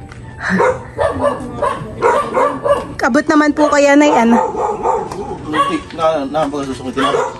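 Dogs bark and yip excitedly in irregular bursts, some whining, while a person talks over them nearby.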